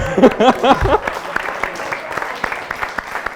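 Applause from a small group breaks out after a voice speaks, scattered claps pattering steadily and fairly close.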